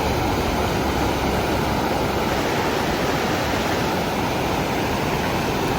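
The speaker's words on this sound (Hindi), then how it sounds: "इस नदी की आवाज सुनो और फील करो।" A river rushes past Turtuk village in Nubra in a loud, unbroken roar of flowing water, close and constant, with no voices.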